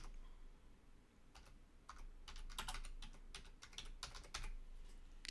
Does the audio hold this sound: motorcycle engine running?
no